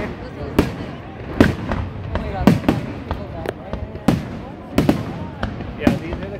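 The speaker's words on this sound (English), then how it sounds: "these are the kind of fireworks that I brought back from the States" Fireworks burst repeatedly during a Canada 150 celebration, sharp cracks and booms at irregular intervals with excited voices of a family talking and exclaiming between them.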